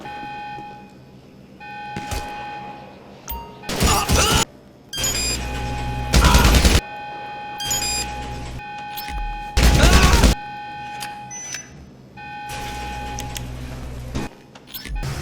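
A security alarm rings in Grand Theft Auto Online, a steady electronic tone punctuated by loud bursts of gunfire, with intermittent game sound and no talk.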